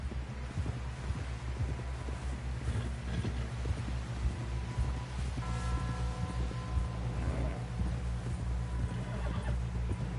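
Horse hooves and snorting from Red Dead Redemption 2 as a rider pushes toward a camp, rhythmic clip-clop and a whinny over a low steady game hum, with no talk.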